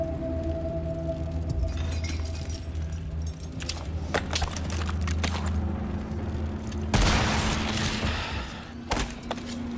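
Sniper rifle shots ring out in Resident Evil 4 VR's castle battlements stage, a few sharp booming cracks spaced apart, the loudest near the end, over a steady low game soundtrack and background hum.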